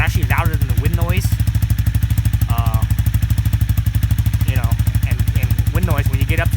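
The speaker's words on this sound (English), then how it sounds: "The exhaust was actually louder than the wind noise." A Honda CB300R motorcycle with an Akrapovic exhaust insert at high rpm: a loud, rapid engine drone with a steady pulsing exhaust note throughout, and a voice speaks briefly over it.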